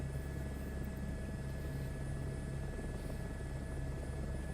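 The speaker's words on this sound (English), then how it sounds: "Just helicopter sounds." A helicopter in flight drones steadily and loudly throughout, with constant rotor and engine hum and no voices.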